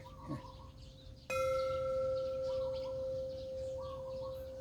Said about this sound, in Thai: มีระฆังที่เฮ็ดเฮ็ดมาจากระเบิด